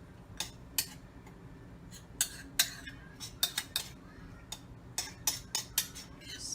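A spoon spreads a cream cheese mixture over a holiday party appetizer in a dish, making a series of light, sharp clinks and scrapes in an irregular rhythm over a low background hum.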